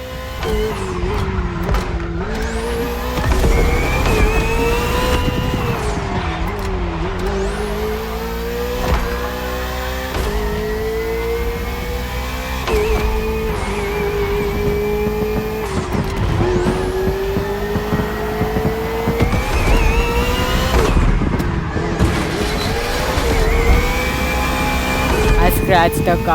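Race car driving in The Crew Motorfest: a loud, continuous engine whine that rises and falls in pitch through repeated gear changes and revving, running throughout with occasional talk over it.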